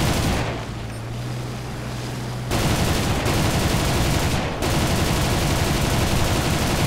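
Loud, dense sustained gunfire and heavy rattling from the video game War Thunder, with a quieter lull before an abrupt return to continuous roaring fire.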